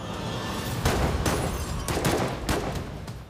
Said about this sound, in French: Les sbires de Casso tirent plusieurs coups de feu.